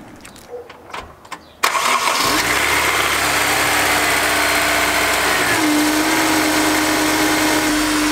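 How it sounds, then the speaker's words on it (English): A Honda S2000 engine cranks and catches at once, then settles into a loud, steady idle close by, preceded by a few soft clicks and knocks. "Let's fire it up, see how much the engine rocks."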